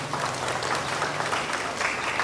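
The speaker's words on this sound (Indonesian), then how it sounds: "Ketua OSIS Odilia Gracela Pios, kita beri tepuk tangan dulu." A crowd claps continuously at a high school student council inauguration, dense and even, filling the whole moment with scattered hand claps at a moderate distance.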